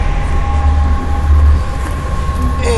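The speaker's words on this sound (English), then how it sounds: "So here I'm in the first class, business class of the uh, Surfliner train." Steady low rumble and rolling hum inside the first class business car of an Amtrak Pacific Surfliner train in motion, continuous and loud with a faint tonal whine throughout.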